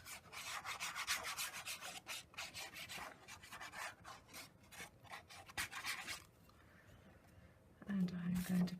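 Paper being rubbed down by hand onto a page of a Stampin' Up Fresh Florals card-making mini album, a steady dry rasping and brushing that runs for several seconds at close range, with a brief quiet pause and a short burst of a voice near the end.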